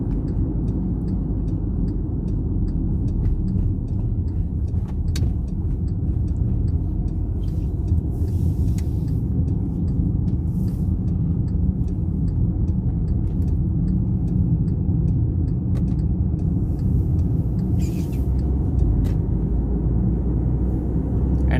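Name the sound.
Volkswagen Tiguan turbo boosting while driving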